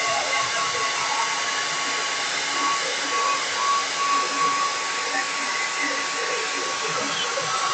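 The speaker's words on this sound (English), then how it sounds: "I'm gonna give it a quick blow dry because after this, I want to draw some lines so it looks like wood, and it needs to be dry" A hair dryer blows steadily and loudly to dry paint on a craft sheep, its even roar and hiss continuing without pause for several seconds.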